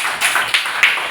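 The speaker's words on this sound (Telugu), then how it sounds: "ముందు అందరూ గట్టిగా క్లాప్స్ కొట్టండి దివ్యకి" A group of students applauds a classmate named Divya, a short burst of brisk, dense hand claps close by, rising and falling in a few quick swells with no voices.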